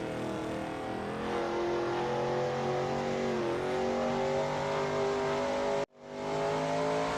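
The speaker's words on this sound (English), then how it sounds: "That ASRL Shelby Mustang GT350R looks good driving through turn 8." Shelby Mustang GT350R engine in a racing video game at NJMP Lightning, a loud sustained drone with steady harmonic tones, pitch dipping briefly as the car works through a corner, then a sudden momentary cut before the engine resumes.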